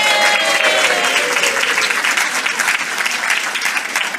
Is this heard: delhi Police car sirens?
no